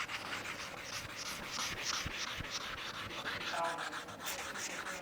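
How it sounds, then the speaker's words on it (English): Wet sandpaper rubs back and forth against a car headlight lens in a steady, raspy scrubbing rhythm, close and fairly quiet. "I'll take the sandpaper and we can just start leveling off"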